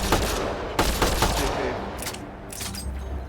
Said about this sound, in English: I guess this gun has sort of a thump, but not really